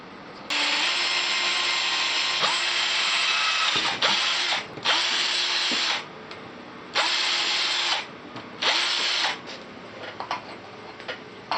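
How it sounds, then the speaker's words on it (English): A power drill bores holes into the rim of a cheap electric scooter, several loud sustained whining bursts separated by short pauses, close up and without speech. "I'll drill holes here, here, and here."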